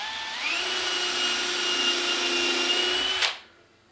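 A power drill whines steadily at high speed for about three seconds while drilling a hole for a wire ornament hanger, then cuts off abruptly, leaving near silence.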